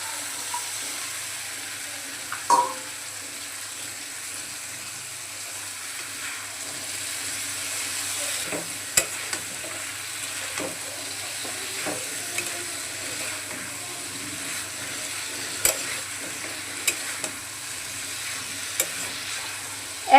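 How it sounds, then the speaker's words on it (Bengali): Taro stolons and jackfruit seeds being fried and stirred with spices in a pan, a soft continuous sizzle under occasional spatula knocks and scrapes against the pan, steady and close, with no talking. "এখন মশলার সাথে কচুর লতিটা আর কাঁঠালের বীজটাকে ভালোভাবে কষিয়ে নিচ্ছি"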